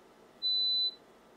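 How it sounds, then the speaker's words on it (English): A computer plays a steady, pure high-pitched test tone as a stimulus in a mosquito hearing experiment; the single beep lasts about half a second, then stops, over a faint hiss. "the tone that the computer is playing"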